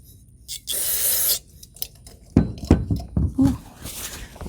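Cleaner sprayed onto a Generac C5000 generator gives one loud hissing burst of about a second, followed by close knocks and rubbing handling sounds.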